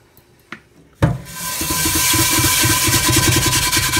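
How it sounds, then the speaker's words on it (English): Close, steady scrubbing of a cast iron skillet with a soapy Brillo pad, a rhythmic abrasive rasp that starts after a couple of faint knocks and continues loudly to the end. "But you want to scrub it really, really well on every crook and cranny of the pan."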